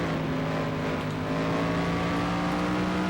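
A race car engine in the racing game FlatOut 2 drones steadily throughout, holding a constant high rev with a strong harmonic hum and no voices.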